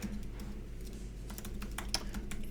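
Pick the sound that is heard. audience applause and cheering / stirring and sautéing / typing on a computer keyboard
typing on a computer keyboard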